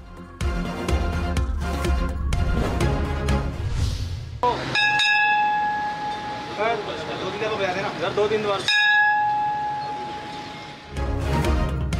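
A bell rung at the Sindh governor's office in Karachi, two bright ringing strikes that each sustain and fade for several seconds, set between stretches of talk and crowd noise.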